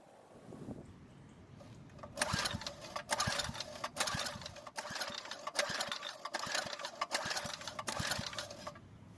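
A Craftsman edger engine is pull-started with a compression tester in place of the spark plug; the recoil rope is yanked repeatedly, producing a run of rapid, rhythmic mechanical cranking bursts that are fairly close, with no engine firing.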